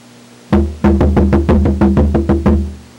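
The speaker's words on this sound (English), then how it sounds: "That's a good Bodhran tone right there." A bodhran frame drum held against the body, struck in a lively rhythm, about ten close, dry, fairly damped hits with a warm low boom.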